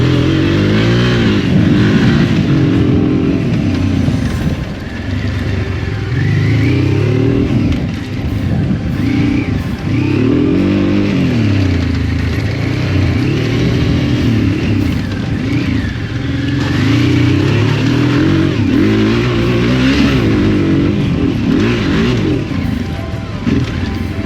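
An Ironhorse XRV750 motorcycle engine is heard while riding: a loud, continuous engine drone that repeatedly rises and falls as the throttle changes, with wind noise and no speech throughout.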